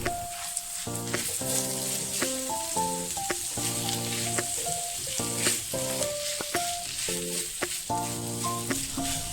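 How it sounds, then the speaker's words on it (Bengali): Thinly sliced onions frying with spices and stirred for a Bengali chicken curry with potatoes, a steady sizzle running throughout with repeated close scraping strokes and a sustained musical tone layered over it. "পাতলা করে ঝিরিঝিরি করে কেটে রাখা পেঁয়াজগুলো দিয়ে মশলার সাথে একটু ভালো করে নেড়ে নেব"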